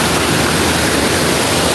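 Large waterfall at Sub Sa Kaeo, Ban Khao Phluang, a loud, dense, unbroken rush of falling water heard up close.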